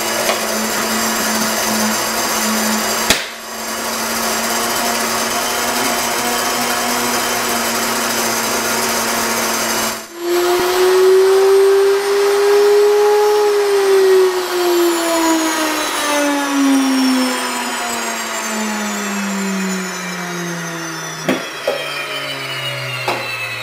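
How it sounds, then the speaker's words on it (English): A WonderMill electric grain mill grinds wheat with a loud, steady high-pitched whine and roar; partway through the pitch rises and then slowly falls as the grinding load changes, with a few small knocks near the end. "You can hear the mill getting quite a bit louder as it finished the cycle"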